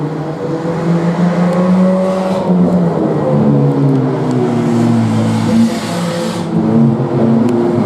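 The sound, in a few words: race cars accelerating out of turn 2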